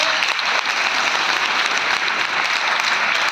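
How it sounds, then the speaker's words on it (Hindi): A steady burst of audience applause fills a hall during a motivational talk, many hands clapping together at even strength for a few seconds without any voices over it. "बातों के लिए तालियां हो जाए।"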